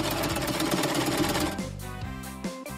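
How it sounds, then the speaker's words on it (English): A sewing machine stitching two pieces of plastic folder together along the edges, a rapid, close mechanical chatter for about a second and a half before slowing and stopping with a few faint clicks. "Sew the two pieces along the edges."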